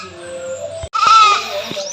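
A goat on a farm lets out a loud, close bleat after a short pause, one wavering cry that stands out over quieter background sounds, with no talking.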